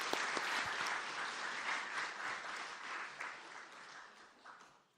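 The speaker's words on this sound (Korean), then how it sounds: "우리 박수로 환영하시도록 하겠습니다." A church congregation at a Sunday service applauds to welcome a newcomer. The clapping is full and sustained, then thins and fades toward the end.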